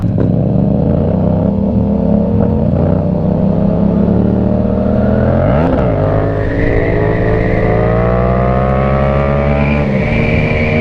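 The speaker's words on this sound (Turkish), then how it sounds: "Yakıt bu kadar pahalıyken gazlıyoruz, teker yapıyoruz." Two Yamaha MT-07 motorcycles revving hard during wheelies, a loud continuous engine roar with rising and falling pitch sweeps as the throttle is worked, close to the microphone and with no talking.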